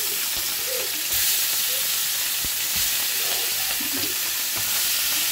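Small rohu fish fry in hot oil tempered with black cumin (nigella) seeds, giving a constant close sizzle and hiss with a few soft clunks of stirring underneath.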